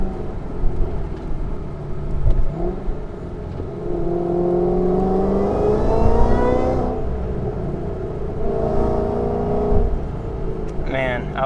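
A 2011 Shelby GT500 Mustang on the road, its supercharger whine rising and falling with engine revs as it accelerates, loud and close, with someone speaking over it.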